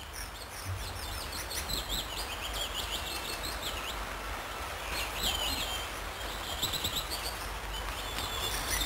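A willow warbler sings repeated soft, descending warbling phrases over a low steady background hum, fairly faint and distant.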